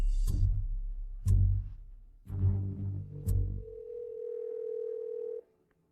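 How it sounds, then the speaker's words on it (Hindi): A telephone call is placed: several short dialing bursts and clicks, then a steady, sustained electronic tone that holds for a couple of seconds before cutting off. "मैं अभी जीवान को फोन करती हूँ"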